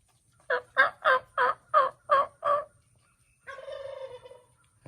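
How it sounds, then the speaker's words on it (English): A turkey hen calls with a series of seven evenly spaced yelps, then a pause and a longer, sustained tonal call, clear against a quiet background. "I hear a hen talking to me now."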